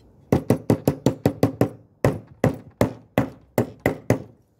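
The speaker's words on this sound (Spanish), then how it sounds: "le di con el martillo." Hammer strikes flatten a metal beer bottle cap for a homemade lure. The blows are sharp and close, with a fast run of eight hits followed by slower, spaced groups, and no talk.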